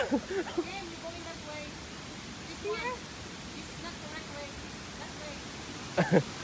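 Pha Sok waterfall in Ubon Ratchathani rushes as a steady, moderate wash of falling water, with people talking intermittently over it.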